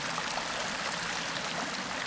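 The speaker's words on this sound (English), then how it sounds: "this is the water flowing into it" Water runs steadily into a water bar on a hiking trail, a soft continuous trickling rush with no voices.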